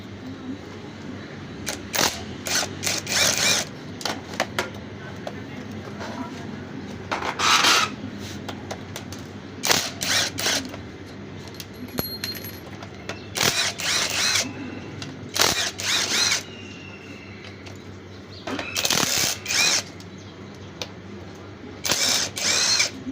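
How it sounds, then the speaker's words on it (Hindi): Bolts being unscrewed on a Super Star 70 motorcycle engine during a clutch repair, heard as repeated bursts of raspy metallic turning and ratcheting that start and stop through the stretch, with no talking. "सारे जो है मैंने बोल्ट खोल लिए इस टाइम"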